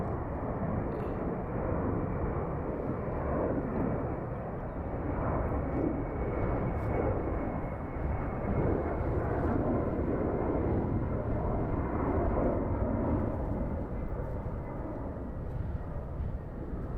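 A jet airliner banking near London Heathrow Airport gives a sustained, broad roar that holds steady throughout, moderately distant and with no talk.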